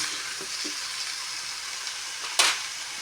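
A pot of jackfruit stew with shrimp in coconut milk simmers with a soft steady sizzle and bubble, with a couple of light taps and one brief louder burst near the end.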